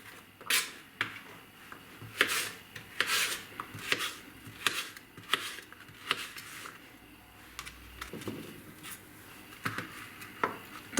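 A knife finely chops onion on a cutting board for a Czech-style mushroom potato soup, giving a steady series of crisp, close taps in irregular bursts.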